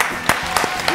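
Hands clap a few times during a game show–style guessing game at home, three or four sharp, separate claps over a steady background murmur.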